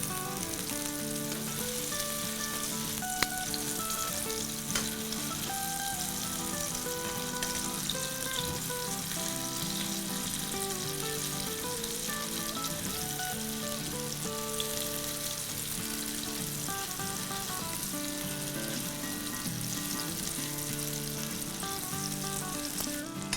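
Reshmi kebabs frying in a pan over medium-high heat, a long even sizzle and crackle with a couple of brief clicks, steady and close, no talking.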